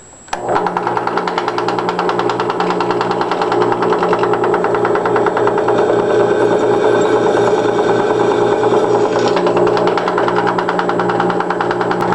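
A drill bores through a steel angle with an 8 mm bit, a steady, loud, continuous whir with a fine rapid buzz that holds for about twelve seconds with no talking.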